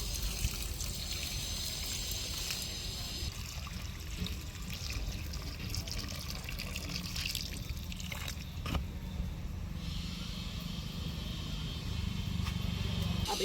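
Water trickles and splashes steadily onto six bottle gourd plants in damp garden soil after morning rain, a soft continuous pour lasting throughout with no talking.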